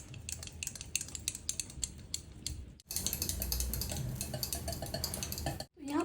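Spiced curd being mixed with coriander-chili paste in a bowl, a spoon scraping and clinking repeatedly against the sides in quick strokes, with a brief pause midway and near-sounding, faint overall with no voices.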